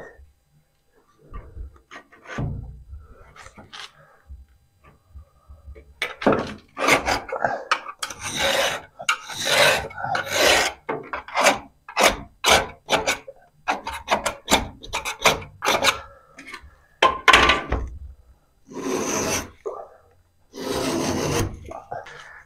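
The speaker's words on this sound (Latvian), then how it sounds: "Ieštrubēju kabeļus vienkārši ar naglu" A nail scrapes grooves for cables into a wall during home construction, a rapid series of rough rasping strokes that grow denser after the first few seconds, close and loud with brief pauses between bursts.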